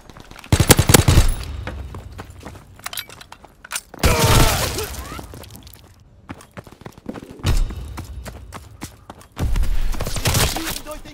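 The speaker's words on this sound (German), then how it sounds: "Wir schießen durch den Korridor." Gunfire from the World War II shooter Call of Duty WW2 in multiplayer: loud bursts of rifle and machine-gun fire with sharp cracks and shattering impacts, coming in clustered volleys with brief lulls between, dense and close.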